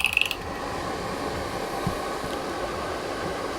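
A DryGuy DX forced-air boot dryer clicks on with a brief knob turn, then a steady fan whir and rushing air hold evenly, close and moderately loud, with no talking.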